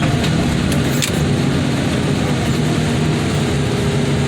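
Heavy machinery rumbles steadily as a car crusher flattens a car wheel in a scrapyard, a continuous loud low engine drone with a couple of brief metallic clanks early on.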